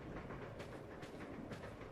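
Moving train ambience inside a Resident Evil Zero train: a low, steady rumble with faint rhythmic clacking of wheels on rails, quiet and continuous.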